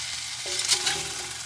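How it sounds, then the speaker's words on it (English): A New Year's steak sizzles in a frying pan with a steady, dense hiss and crackle, and brief scraping and tonal clinks rise above it, close and alone without talk. "I'm going to flip it. I'm going to flip this steak,"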